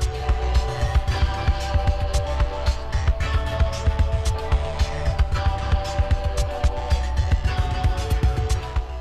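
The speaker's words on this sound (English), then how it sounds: "As the mandrel spins, they wrap a rubber strip around it, measuring and layering if necessary to build the thickness they're after." A steel mandrel spins while a rubber strip is wrapped around it to build up an industrial rubber hose, giving a steady low machine hum with rapid regular throbbing pulses and scattered clicks throughout.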